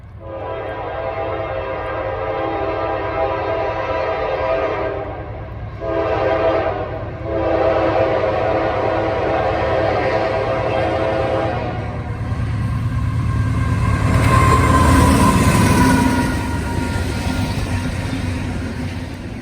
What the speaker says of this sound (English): Shane and I enjoyed watching this eclectic Norfolk Southern train continue north